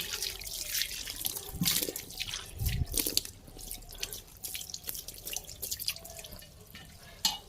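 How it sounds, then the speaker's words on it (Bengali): A water tap clogged with sand sputters and trickles into a sink, with irregular close drips and splashes coming in uneven bursts. "কলটার মধ্যে বালি ঢুকে গেছে"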